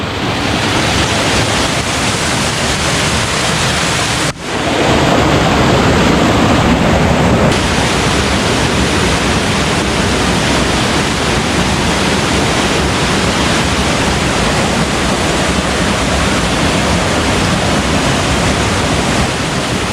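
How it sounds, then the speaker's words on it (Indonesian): Waterfall on the slopes of Mount Merbabu near Boyolali, a steady loud broadband roar of falling water that fills the whole stretch, with a brief dip and a short shift in texture early on, no voices. "Lagi air terjun"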